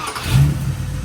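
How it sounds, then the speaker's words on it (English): A V8-swapped Mopar-powered Volvo car engine catches and revs briefly, a short close burst of low rumble with no talk. "Look at that thing. It just starts right up."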